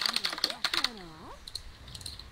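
Loud computer keyboard typing during an esports match broadcast: sharp rapid clacks in quick bursts, with a voice talking in between.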